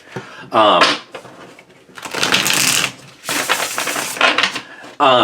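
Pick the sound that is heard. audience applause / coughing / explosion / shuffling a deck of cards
shuffling a deck of cards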